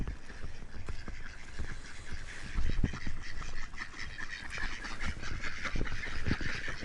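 Ducks quacking and honking close by in a lively, overlapping flock, with calls coming in rapid irregular bursts.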